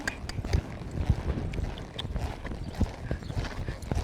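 A mare lopes across arena ground, her hooves falling in a steady, rhythmic three-beat patter that sounds soft and close amid light wind noise.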